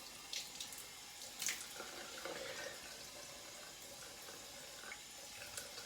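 A faucet runs steadily into a sink to wet a shaving brush before shaving with soft soap, a quiet continuous hiss of flowing water with faint splashes and no voices.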